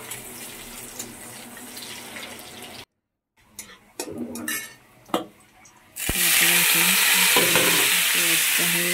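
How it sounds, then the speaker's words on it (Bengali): Onion fries in hot oil in a pan on a home stove before bitter gourd and potato are added. Scraping stir sounds and clatter come first, then a loud, steady, close sizzle fills the last few seconds. "দেখো, আমি প্রথমে পেঁয়াজটা গরম করে নিচ্ছি তেলে।"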